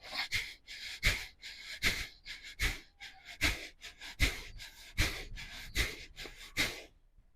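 Slow, deep yogic breaths repeat in a steady rhythm, each a soft rushing inhale or exhale, close and fairly quiet, about a dozen in all.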